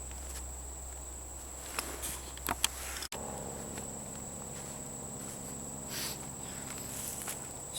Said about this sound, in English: Still out here with the bugs.